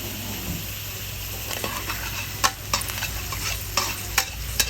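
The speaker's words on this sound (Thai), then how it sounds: "ใส่หมูลงไปผัดกับกระเทียมเลยค่ะ" Minced pork and garlic sizzle steadily in a hot pan while a spatula stirs and scrapes, giving sharp metallic clinks at irregular intervals over the constant frying hiss.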